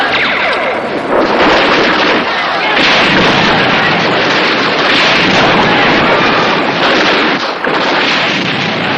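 Dense, loud gunfire and explosive bursts in a battle scene from a 1988 Indonesian radio drama, booming continuously with shouting voices mixed into the din.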